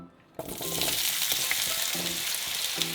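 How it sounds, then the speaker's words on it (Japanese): Potato, onion and garlic shallow-frying in a generous pour of olive oil over medium heat for Spanish tortilla, a loud steady sizzle bursting in after a brief quiet start, with occasional utensil taps underneath. "結構たっぷりとオリーブオイルを加えて揚げ焼きにしていくような感じです。"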